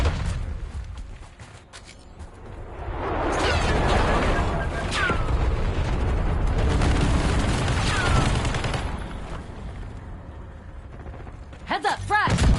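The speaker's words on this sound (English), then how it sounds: "Authorizing napalm strike." Napalm strike explosions roll through a Black Ops 6 Zombies match as a sustained, rumbling wash of booms and crackling fire that swells for several seconds, with voices speaking over it and sharper gunfire-like bursts at the end.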